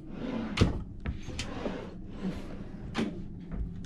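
A wardrobe drawer in a Wonder of the Seas Central Park balcony cruise cabin opens and closes, giving several soft wooden knocks and slides at close range in a quiet room.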